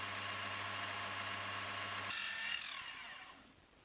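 A drill bores a hole in a metal scope rail for a Walther LG400 air rifle, a steady loud whine running alone before cutting off and trailing into quieter scraping and spin-down.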